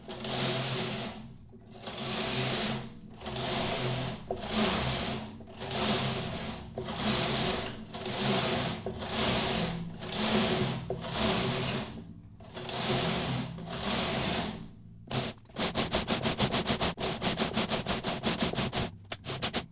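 A knitting machine carriage sweeps back and forth across the needle bed knitting tuck stitch rows, each pass a loud rushing whir with brief gaps between, ending in a fast run of sharp clicks.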